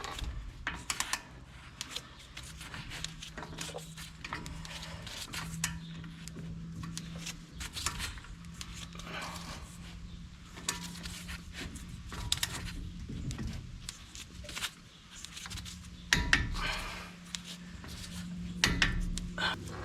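Torque wrench set to 50 foot-pounds clicking while tightening a wheel bearing hub on a 1994 Ford F-350 4x4 truck, with repeated short mechanical ratcheting clicks and scrapes over a steady low hum, close and moderately loud, no talking.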